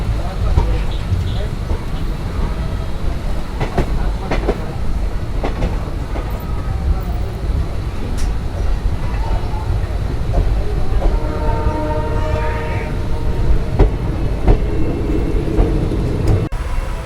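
The Jammu Tawi Jodhpur express train pulls away through the Rajasthan desert, with a loud, continuous rumble of wheels and wagons, some clanks and faint whistle-like tones over it, and a voice talking throughout.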